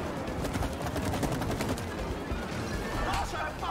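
Gunshots in the video game It Takes Two, a rapid burst of fire followed by scattered shots and impacts, under game effects and faint background voices.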